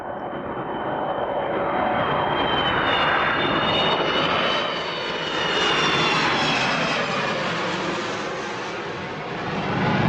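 Steady, loud drone of a fixed-wing airplane's engines while boarding, broadband roar with a faint whine, swelling and easing slightly over ten seconds, no voices.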